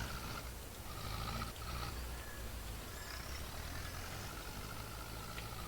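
An old tractor engine idles steadily in Farming Simulator 22 during a snowstorm, a constant low rumbling drone with faint mechanical tones and clicks on top, no talking.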